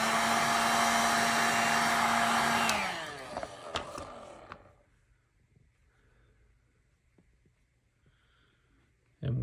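Heat gun blowing on a vinyl decal on a 2014 KX450 motorcycle, a loud steady whoosh for under three seconds that then winds down, leaving faint handling noises and a short blast restarting at the end.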